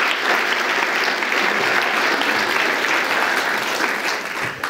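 A full round of applause from a conference audience welcoming a panel, dense, loud and sustained clapping that holds steady for several seconds before easing slightly at the end.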